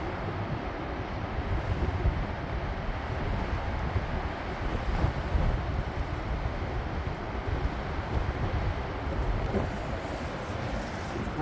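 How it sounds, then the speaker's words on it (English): Ocean waves on the Oregon coast at Brookings roar as a steady, dense surf wash from a clifftop viewpoint, mixed with wind buffeting the microphone, with no talking. "Look at those waves."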